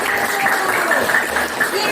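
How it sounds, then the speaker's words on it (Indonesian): A classroom of pupils claps for a student group, a brief burst of many hands that is fairly close and loud and is mixed with voices throughout. "tepuk tangan yang meriah untuk kelompok 1"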